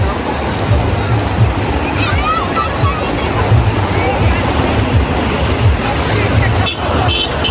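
Loud, continuous rush of released Saraswati river water at Khalipur, Patan, Gujarat fills the scene, with traffic and a faint horn somewhere in the background.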